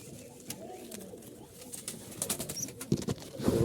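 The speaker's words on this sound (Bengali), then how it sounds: "এখানে অনেক কবুতর আছে" Jalali pigeons coo softly among many birds, with wing flutters and scuffling, plus some louder rustling and knocks toward the end; close and fairly quiet.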